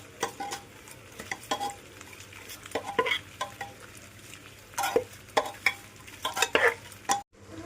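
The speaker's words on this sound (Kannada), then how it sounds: "ಈಗ ಚೆನ್ನಾಗಿ ಕಲಸೋಣ." Mutton stirred with salt in a pot for biryani, with repeated scraping and clattering strokes of a spoon against metal in an irregular rhythm, moderately loud and close, with a faint sizzle underneath.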